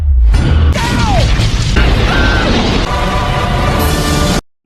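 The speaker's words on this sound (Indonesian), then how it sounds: "Syukurnya ledakan itu tidak mengenai Mike the Eagle yang membawa telur." A loud, dense cartoon dynamite blast from Angry Birds fills the clip with crashing noise and whistling tones, then cuts off abruptly to silence.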